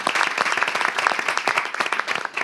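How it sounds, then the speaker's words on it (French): An audience applauds at a lively French-language entertainment and dance show, with dense, steady clapping that carries close and loud throughout the short stretch. "Applaudissez pour eux."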